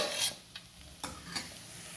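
Chicken pieces frying in masala in a pan, a steady low sizzle with a few soft stirring scrapes and clinks, close and without talk.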